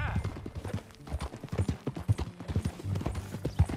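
Rhythmic horse hooves in Red Dead Redemption 2 clip-clop at a steady trot, close and clear, with a faint whinny near the start and no talking.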